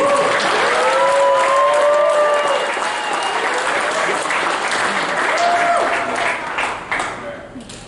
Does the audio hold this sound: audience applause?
yes